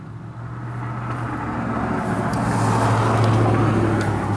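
Steady roadway noise with passing cars and a low engine hum, growing slightly louder, no voices.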